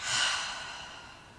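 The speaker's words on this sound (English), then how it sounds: "take a deep inhale through the nose and exhale out through the mouth" A single deep breath, drawn in through the nose and released out through the mouth during a calming yoga session, a soft close airy rush that swells early and slowly fades, with no talking.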